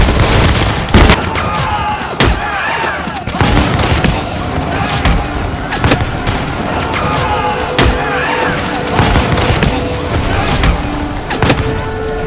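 Gunfire booms and cannon blasts crack repeatedly through an animated battle between Mongol and Manchu armies in 1696, loud sharp bursts over a dense roar, with voices shouting amid the clamour.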